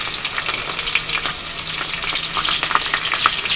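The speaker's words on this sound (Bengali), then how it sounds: "পুরো কাঁচা লঙ্কা ঝালেতে আজকে হচ্ছে, লঙ্কা ফুটছে" Whole green chillies frying in a pan of hot oil, giving a loud, close, continuous sizzle broken by sharp crackles and pops, with no voices.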